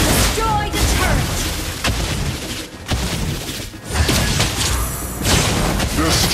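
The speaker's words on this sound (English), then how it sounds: "Your team destroyed the turret!" A turret being destroyed in the Mobile Legends video game, heavy booming impacts and crashing bursts over a dense, loud mix of game effects, with an announcer voice speaking over the action.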